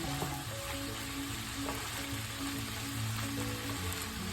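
Pork fat sizzles and crackles in a pan while sautéing for dinuguan, a steady, moderately close fry hiss with faint scraping and no talk.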